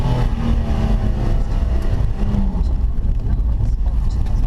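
A BMW M4 Competition engine revving, giving a loud, deep, rumbling roar that holds steady and close throughout.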